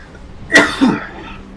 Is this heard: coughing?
yes